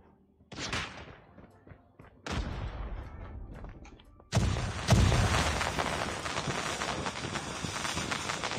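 Gunfire and a grenade blast ring out during a Call of Duty Mobile match. Sharp bursts come at about half a second and two seconds, then a louder sustained stretch of shots and explosion noise runs through to the end.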